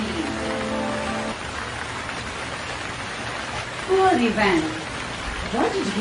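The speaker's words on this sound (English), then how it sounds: "The rain fell heavily." Heavy rain pours down in a steady, dense hiss, with a few faint chirping tones rising briefly over it.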